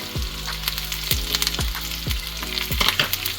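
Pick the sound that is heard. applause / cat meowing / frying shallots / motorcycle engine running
frying shallots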